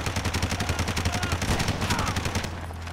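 Sustained rapid gunfire from a weapon in the first Red Faction shooter game, a dense burst of close, loud shots rattling continuously for nearly three seconds before easing off, with no talking.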